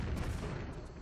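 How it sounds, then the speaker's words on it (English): Dense, rumbling bursts of grenade explosions and blasts in Tomb Raider 3's Coastal Village level, continuous and loud with no voices over them. "Just stand up here, do a standing jump, and try to hit him with grenades."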